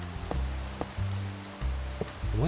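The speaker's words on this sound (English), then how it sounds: "Oh, perfect. More rain." Steady, soft rain hiss falls in the Minecraft video game, a continuous wash with a few low tonal thumps and a brief rising tone near the end.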